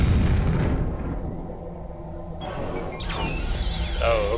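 Rocket launcher blasts in the video game Quake: heavy, rumbling booms with a long low roar that swells again near the end, loud and close, with no one speaking.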